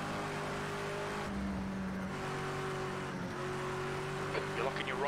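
Touring car engine in a racing video game at Watkins Glen, a steady droning whine that shifts pitch as the car changes gear, running continuously with brief tyre squeal near the end.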